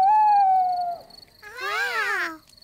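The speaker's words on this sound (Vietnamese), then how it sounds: "Là tiếng chim cú." An owl hoots in a cartoon nature scene, first a long steady drawn-out tone and then a wavering, rising and falling call, clear and close with no talking.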